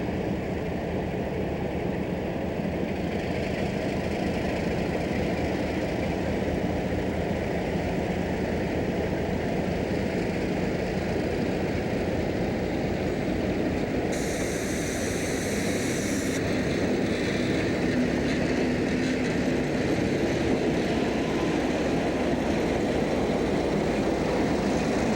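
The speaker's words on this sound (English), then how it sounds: "JN Tower has cleared a nickel plate road Fairbanks-Moore switcher into its yard" Nickel Plate Road Fairbanks-Morse diesel switcher locomotive rolling into a rail yard at a tower-controlled junction in Toledo, with a steady low engine drone and rumble throughout and a brief higher whine partway through, no voices.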